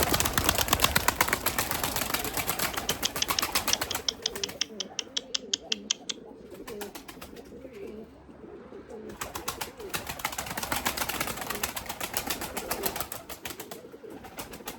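Limoni breeding pigeons coo in a loft, soft repeated throaty calls close by, accompanied by loud rapid clicking or fluttering bursts at the start and again later, with no voices.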